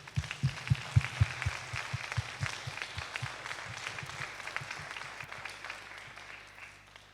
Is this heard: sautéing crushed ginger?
no